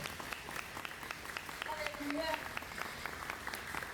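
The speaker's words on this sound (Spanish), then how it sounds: "Denle un aplauso al Señor para que no se quede tan serio." A church congregation at Iglesia Nueva Jerusalem claps. The applause is fairly faint and scattered, with a few brief voices rising midway through.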